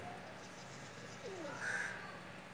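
A female Teddy pigeon, a Pakistani breeder bird building a nest, gives a soft, faint cooing call against quiet background hum, heard alone and up close.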